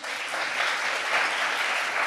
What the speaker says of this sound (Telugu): అసలు చప్పట్లు కొడతారండి